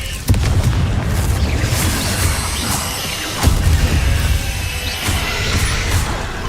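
The Confringo blasting spell in Hogwarts Legacy goes off as two heavy booming explosions, one right at the start and another midway, each followed by a crackling, rumbling tail under continuous game noise.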